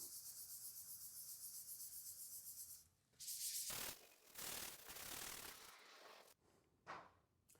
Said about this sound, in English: let's see if we can get rid of this using a Scotch-Brite pad